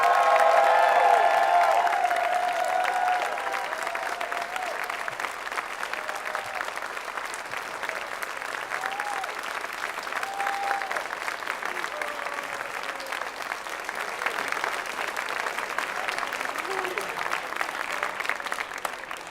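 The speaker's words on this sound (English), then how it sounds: "Let's have one more round of applause for all of our fantastic guests of honor." A convention closing-ceremony audience applauds its guests of honor, a long, steady wash of clapping with scattered cheers and whoops, fairly distant and even, a faint voice heard early on.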